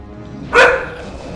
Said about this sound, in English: I'm guessing that barking is really loud.